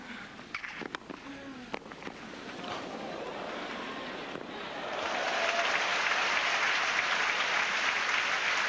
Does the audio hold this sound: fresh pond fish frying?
no